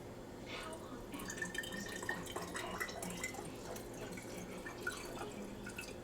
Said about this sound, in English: I'm going to go ahead and just pour it in very slowly